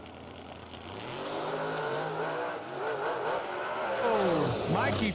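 A drag race car at a radial-tire event accelerates hard down the strip, engine tones climbing in rising sweeps before it slews sideways near the end; loud and close, with a steady crowd-and-track bed underneath.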